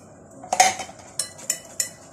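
A utensil stirs dry ingredients for Damietta mushabak dough in a bowl, giving a few sharp metallic clinks and scrapes, close and distinct, with no talking.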